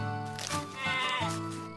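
A sheep bleats in a single long, wavering call, close and fairly loud, with no other sounds around it.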